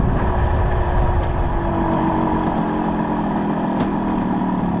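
A small Yamaha YB motorcycle rides along a loch-side road in Connemara, its engine droning steadily and loudly with a continuous buzzing note and a couple of brief sharp ticks.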